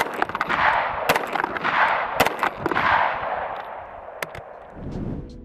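An MP5K machine gun concealed inside a briefcase firing: loud, sharp bursts of gunshots in uneven rapid clusters with ringing tails, up close and without any talking.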